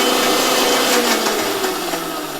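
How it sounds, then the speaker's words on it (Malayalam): A kitchen mixer whirs loudly and steadily, grinding Oreo biscuits together with Njalipoovan banana for a milkshake, a dense continuous motor roar with slight rhythmic variation throughout. "ഓരോ ബിസ്ക്കറ്റും പഴവും കൂടെയാണ് ഇത് മിക്സ് ചെയ്തെടുക്കുന്നത്."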